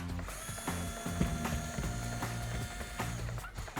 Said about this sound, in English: Now I'm going to switch to my USB lithium screwdriver, and we're going to remove these 2 larger screws here that are holding this onto the wall.